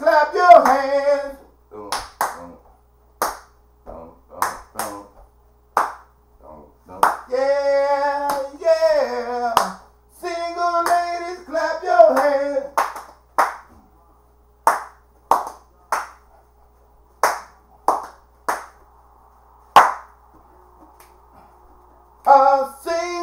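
Hands clapping sharply in an uneven pattern, interleaved with singing that carries a melodic line through most of the stretch, the claps bright and close, some landing alone between sung phrases.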